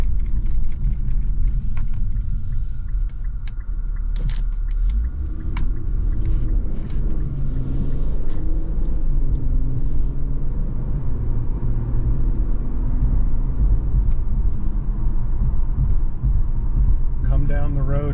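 A 2023 Infiniti Q50 Sensory AWD accelerates with a steady low engine rumble and road noise heard from inside the cabin, with someone talking throughout.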